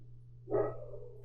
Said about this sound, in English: I hope you can't hear my dogs barking.